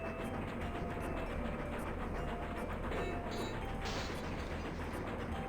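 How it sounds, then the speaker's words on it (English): Mechanical rattling and creaking of a train in the video game Blood, a steady dense clatter running throughout at constant loudness with no voices. "A little harder to hear over the train sounds"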